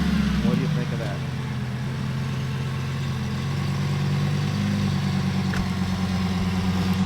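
A 2005 Lamborghini Gallardo with stock mufflers idles steadily, a low, even engine rumble that holds throughout, with a short revving swell near the start.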